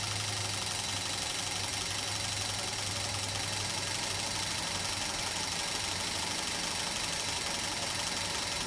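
A used Holley Sniper fuel-injection setup runs on a bench test with its engine held at raised RPM, a dense, steady mechanical roar with an even hum throughout and no talking.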